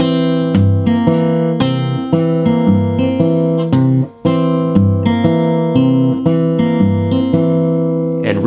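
A basic Travis picking pattern on guitar over a C dominant 7 chord, country-blues style: an alternating thumb bass under syncopated treble plucks, repeating steadily with one brief gap midway, close and clear with no talking.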